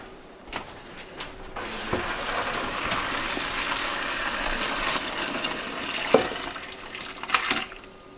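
Cooking liquid poured off a pot of pasta into a sink, a steady rushing splash lasting several seconds between clatters and knocks of kitchen utensils.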